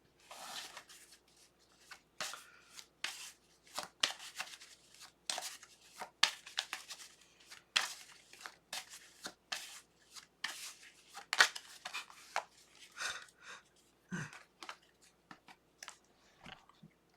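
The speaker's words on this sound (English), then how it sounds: "When I was uh, shuffling this card" Crisp, rapid riffling and soft slaps of tarot cards being shuffled by hand, close up, in irregular bursts with brief pauses and no talking.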